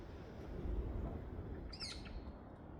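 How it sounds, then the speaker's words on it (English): Parakeets or parrots give a brief burst of sharp, shrill squawks that stand out partway through, set against a steady outdoor background hum at a waterside spot with moorhens and teal. "Can hear the parrots again as well."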